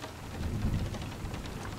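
Steady rain falls in a dense, even patter of raindrops, with a low rumble of thunder swelling briefly in the middle, all continuous and fairly soft with no voices.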